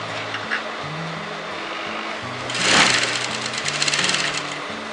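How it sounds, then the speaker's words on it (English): A sewing machine stitches the armhole of a kurti in rapid mechanical bursts. Its close, rhythmic whirr speeds up and slows between short pauses. "from here, I sew my armhole"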